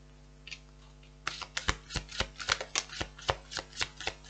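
Tarot cards are shuffled by hand, starting with a couple of soft flicks and then a quick, crisp run of riffling snaps, close and clear with no talking.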